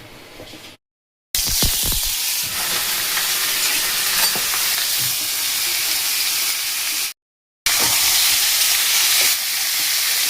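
Par-steamed jackfruit and potatoes dropped into hot oil in an iron wok: a burst of crackling on contact, then loud, steady sizzling with stirring, interrupted by two short silent gaps.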